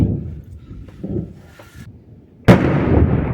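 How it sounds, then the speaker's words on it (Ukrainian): A loud sharp crack of distant gunfire at a war front in Ukraine bursts out suddenly, followed by a lingering rumble, over low background noise. "Самі чуєте. Стріляють."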